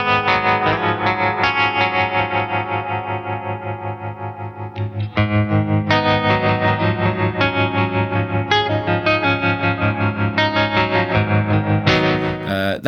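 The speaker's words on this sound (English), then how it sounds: "That's the kind of, amplitude tremolo as you'd expect" Electric guitar played through a Jam Pedals Harmonious Monk tremolo pedal, sustained chords pulsing with a steady rhythmic amplitude throb, loud and alone, with a brief pause and new chord near the middle.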